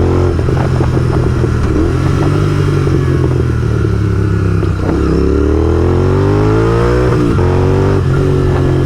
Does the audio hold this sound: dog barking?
no